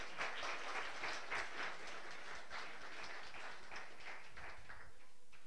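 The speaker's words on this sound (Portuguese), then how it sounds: "Dá uma salva de palmas para o Senhor." A church congregation applauds continuously for several seconds, a dense, steady patter of many hands clapping at moderate distance with no talk over it.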